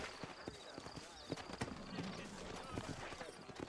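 Horse hooves clip-clopping in the western video game Red Dead Redemption, a steady trotting rhythm of close, crisp hoof strikes with faint snorting, while someone speaks over them.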